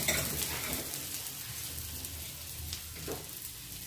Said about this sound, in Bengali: এবার সবগুলো উপকরণ চালের সাথে একটু মিশিয়ে নেব।